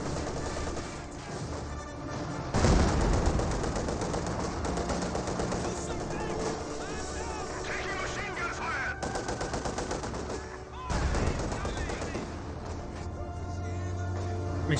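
Maxim machine gun fire in Company of Heroes 2, rapid rattling bursts layered with other gunfire and battle noise, loud and continuous, under a commentator's voice.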